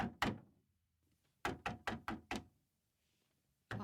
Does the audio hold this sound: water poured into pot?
no